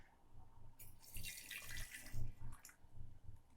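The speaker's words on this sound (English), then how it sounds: "Once your water is cool, you can then go ahead and pour it over your leaves." Cooled water is poured from a kettle over loose tea leaves in a teapot, a soft, close splashing and trickling stream that swells and eases over a few seconds.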